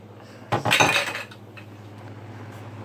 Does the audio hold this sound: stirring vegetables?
yes